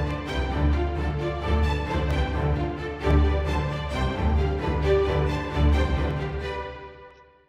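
Orchestral strings play a steady repeating ostinato figure, with second violins and viola over deep cello and bass, ending in a fade.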